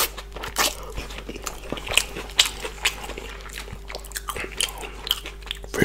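Close-up eating of fish balls, lap cheong, napa cabbage and rice: repeated crisp bites and wet chewing in an irregular rhythm, loud and near, with no talk.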